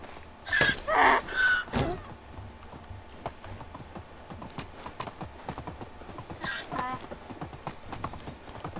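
Donkey hooves clip-clopping in the Medieval Dynasty game, a steady quick trotting rhythm running throughout, with louder bursts of someone talking over it.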